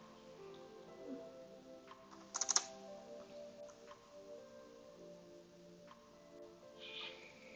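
Quiet typing on a computer keyboard, soft scattered clicks with a brief louder burst of keystrokes partway through, heard close but faint with no voices.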